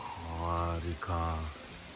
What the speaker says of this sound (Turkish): Çok güzel bir yağmur sesi geliyor.